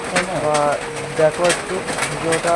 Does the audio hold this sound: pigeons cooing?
yes